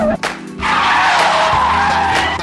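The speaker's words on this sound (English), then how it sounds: "The next technique shown is called a braking drift." Car tires screech continuously through a braking drift, as in the Initial D street-racing anime, a loud sustained squeal following a short engine burst.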